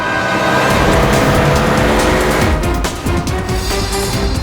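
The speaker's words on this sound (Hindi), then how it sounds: "सचिन जल्दी गाड़ी चला, इससे पहले कि देर हो जाए हमें उसे रोकना होगा।" A car driven hard and fast in a tense pursuit, engine roaring loudly and steadily throughout with tire squeal and skidding noise mixed in, no talk.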